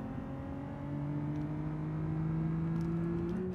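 A V6 hatchback engine in BeamNG drones steadily with a rising tone as it revs past 7,000 rpm, a continuous smooth hum throughout with no voices.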